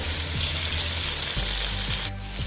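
Chicken and onions fry in a hot pan with a steady, loud sizzle, broken by a few stirring scrapes and knocks before the sizzle drops off near the end.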